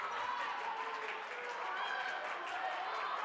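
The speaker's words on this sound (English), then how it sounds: "A lot of noise here in Sitting Eagle Gymnasium. This crowd is hyped." Basketball crowd noise fills a school gymnasium during a girls varsity game, a steady loud roar of cheering and chatter with scattered claps, continuous throughout.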